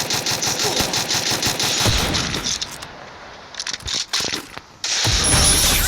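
Video game gunfire during a ranked match with a sniper kill crackles in rapid, loud bursts, with sharp mechanical clicks and a brief lull before another heavy volley.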